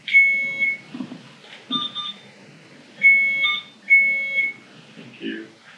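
An infusion pump analyzer sounds a test alarm, a series of short electronic beeps in uneven bursts, while a person talks quietly underneath.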